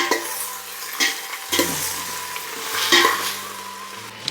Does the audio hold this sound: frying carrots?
yes